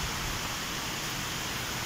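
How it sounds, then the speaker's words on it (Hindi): Steady, dense hiss of heavy rain pouring continuously, broadband and unbroken, with no voices. "बहुत तेज बारिश हो गई"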